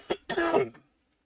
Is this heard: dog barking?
no